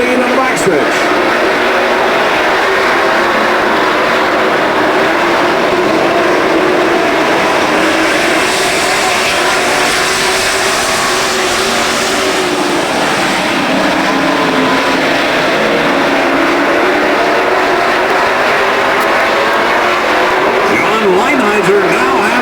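Super stock race cars roar around a track in a steady, loud, continuous engine drone, with crowd-like wash and a voice speaking over it throughout.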